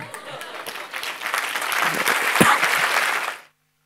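An audience at a Gurupurnima spiritual discourse claps, the applause swelling steadily for about three seconds before stopping abruptly.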